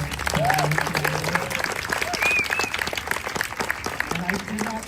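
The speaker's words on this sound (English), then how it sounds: "Please, a round of applause for Belle." A crowd at a live charity walk kick-off event applauds together, a steady broad wash of clapping lasting several seconds with a few brief shouts and voices rising over it.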